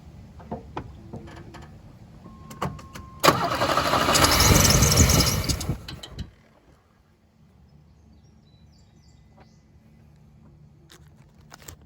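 A Chevrolet GMC 2.8 engine cranks and fires into a loud, roaring catch. It settles after a few seconds and drops to a quiet idle, with faint clicks before and after.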